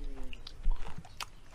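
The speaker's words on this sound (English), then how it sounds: "You eat the whole worm. Crunchy." Someone chews a crunchy Sarawak worm eaten whole, head included, in a Malaysian village; close, irregular biting and crunching bursts over about a second and a half, with no talk.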